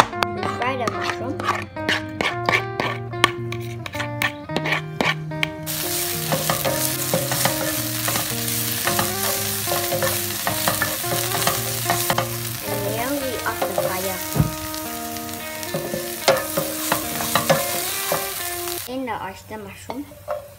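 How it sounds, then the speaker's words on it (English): Oyster mushrooms fry in a pan under a steady sizzle and occasional stirring clinks, partly masked by loud tonal background music throughout. "Fry the mushroom."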